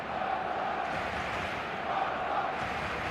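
A stadium crowd in the eFootball 2025 video game gives off a steady, dense roar with faint chanting before a Barcelona versus Real Madrid match.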